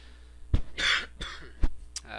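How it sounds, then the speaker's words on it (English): Someone coughs several times in short, sharp bursts and clears their throat, close up and moderately loud, in an otherwise quiet room. "Sorry about coughing."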